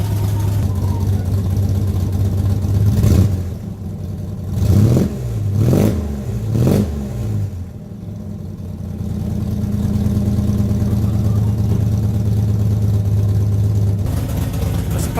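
A Holden VP Commodore engine running through a new, quieter exhaust, a steady idle broken by a few short revs in the middle, heard close with a voice speaking briefly.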